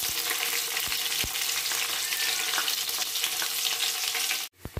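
Cumin seeds and two chillies fry in hot oil for dal tadka, giving a loud, steady sizzle with a few sharp crackles, near and continuous, cutting off abruptly near the end.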